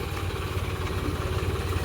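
A tractor engine runs steadily at a distance, a faint, low, even rumble with a slight rhythmic throb and no voices.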